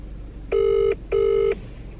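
Two steady electronic ring tones, each about half a second, separated by a short pause, over a faint background hiss.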